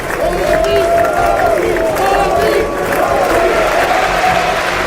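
Sustained crowd applause and cheering in the US Congress as Prime Minister Modi enters, a dense continuous roar of clapping with voices mixed in throughout.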